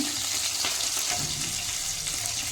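Chopped green chillies fry in a pan for a radish dish, giving a steady, close hissing sizzle with no talking.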